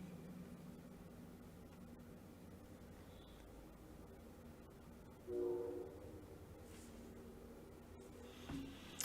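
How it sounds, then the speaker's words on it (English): An early-morning train passes at a distance, a low steady rumble with a brief horn-like tone midway and a faint second blast near the end, all quiet and without voices. "Oh, early morning train."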